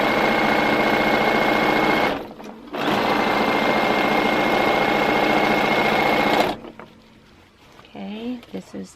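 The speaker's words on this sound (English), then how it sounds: "I'm just going to be stitching 4 patches together" A sewing machine stitches quilt patches together in fast, loud bursts that stop briefly and then run again, ending in quiet handling sounds with a voice speaking at the close.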